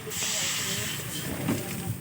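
Water hits a hot pan of chicken adobo with malunggay over a strong flame, giving a loud, sustained steam hiss that holds steady for about two seconds.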